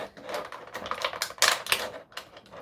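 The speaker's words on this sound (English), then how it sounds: "Well, I gotta pop it out of the plastic still." Plastic doll packaging crackles and pops in a quick, busy run of crinkles and clicks, with a louder snap burst in the middle, close up and without any talking.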